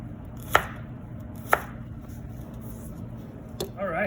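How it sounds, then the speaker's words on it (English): A knife slices celery at an angle on a cutting board, giving three sharp separate chops about a second apart, the last followed by a short voice. "And then we simply cut right across at an angle."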